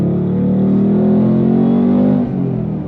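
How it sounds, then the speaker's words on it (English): Ford Mustang Dark Horse V8 from 2025, heard from inside the car, giving a loud, steady deep rumble that holds at high revs for about two seconds, then eases off slightly near the end, with no talking. "But the V8 sounds so good in this car."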